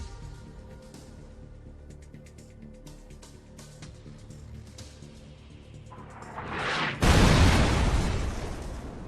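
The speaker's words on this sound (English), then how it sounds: "inside these zones, buildings will be randomly targeted and potentially completely destroyed" Building destruction in the PUBG video game: a low rumble swells into a loud, broadband crashing roar around the middle of the clip and sustains to the end, with no talking.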